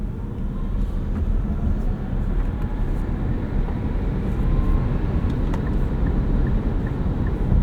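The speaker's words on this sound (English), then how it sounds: "we'll put this into sport mode and show you how it gets up to speed" Inside a 2026 Nissan Leaf electric car accelerating in sport mode, a steady loud road and wind roar builds evenly with a faint motor whine and no engine note.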